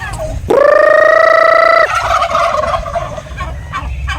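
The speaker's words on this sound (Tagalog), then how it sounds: "ito na po yung aking mga pabo mga kapatid, ang mga makukulit kong pabo" Turkeys on a farm let out one loud, sustained gobble close by, followed by fainter gobbling and clucking in the background.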